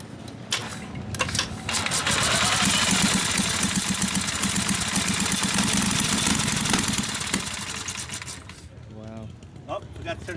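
A 1912 Emblem racer motorcycle engine runs loud and steady for several seconds with a rough, pulsing beat, then cuts out, leaving faint background voices near the end.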